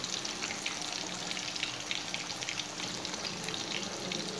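Green masala fish frying over a low flame in a pan, a steady, close, continuous crackling sizzle with dense popping throughout and no talking.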